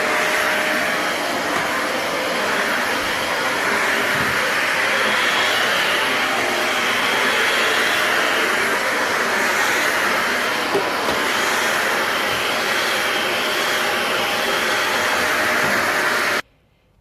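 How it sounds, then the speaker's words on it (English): A Dyson Big Ball Animal CY23 cylinder vacuum cleaner hoovering a floor with a floor attachment, a loud, steady whooshing motor roar held for the whole stretch and then cut off abruptly at the end. "I'm going to quickly show you how it hoovers the floor with this attachment first,"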